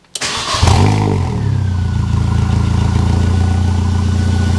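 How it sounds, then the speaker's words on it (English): A Mini Cooper R50 engine cranks briefly and catches, then settles into a loud, steady idle close by, with no talking. "so we'll just crank her over"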